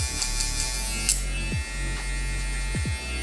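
Electric hair clippers buzzing close up during clipper-over-comb work refining a taper fade, a steady loud hum with small pitch dips as the blades bite into hair.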